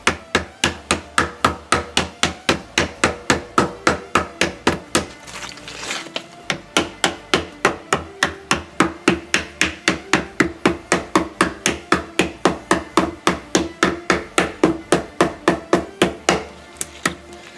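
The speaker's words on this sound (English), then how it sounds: "Hammer these on." Caps are hammered onto the wheels of a La Caja China roaster during assembly, a long steady run of sharp, evenly spaced strikes close by, with a brief pause partway through before the rapid rhythm resumes.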